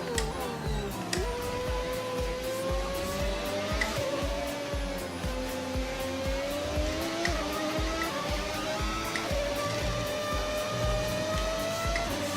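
Racing video game car engine whining steadily with shifting pitch, overlaid by tire squeal and skidding, loud and continuous throughout with no talk.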